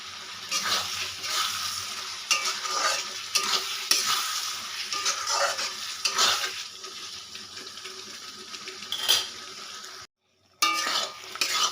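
Mutton fat and potatoes stir-fry in a spiced masala, a continuous sizzle and hiss broken by spoon stirring and scraping against the pan, close and steady, with a brief drop to silence near the end.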